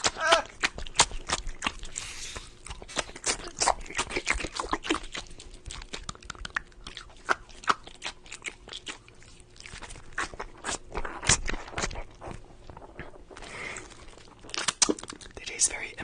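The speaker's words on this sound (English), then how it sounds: "shove them in my mouth and start chewing them for the internet to listen to" A person chews pieces of silicone implant close to the mouth, producing wet crunchy squelches and crinkling bites in an irregular rhythm, with occasional breathy sounds between chews.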